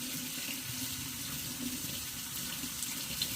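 Tap water runs steadily into a sink, rinsing a vinyl 1985 or 1990 vintage My Buddy doll, a close, continuous broadband splash with no breaks.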